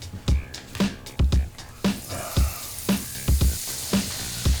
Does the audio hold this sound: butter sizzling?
yes